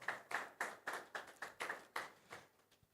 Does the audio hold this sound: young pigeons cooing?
no